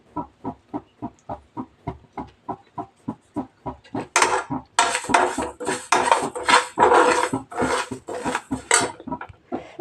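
Spices dry-roasting in a hot pan on a home stove, stirred steadily with a metal spoon: regular scraping clinks at first, then denser continuous scraping and rattling of spices against the metal, close and alone.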